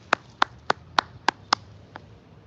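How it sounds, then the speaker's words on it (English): A single person clapping close by, about seven sharp, evenly spaced claps during a livestream, the last one softer, alone with no talking. "Round of applause for him."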